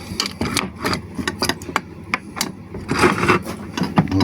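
A small ratchet wrench clicks in quick irregular bursts while something is dismantled, the close mechanical ticks broken by short pauses and a busier rattle near the end.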